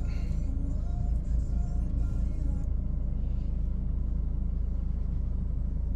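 A 2020 Nissan Terra engine idles with a low, steady, smooth rumble close by, an even droning hum with faint higher noise fading partway through.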